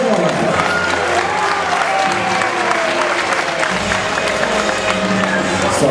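Crowd at a zoo dolphin show applauding a dolphin, steady loud clapping from many people with scattered cheers mixed in, continuing the whole time.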